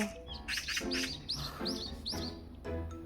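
Magpies call in a rapid series of harsh, chattering chirps, close and fairly loud, repeating steadily throughout.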